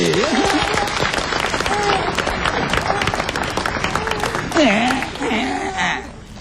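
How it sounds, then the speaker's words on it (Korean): Applause from an audience at a lecture on children's and homemakers' ailments: steady clapping throughout, with a voice speaking over it and laughter near the end. "박수부터 합니다"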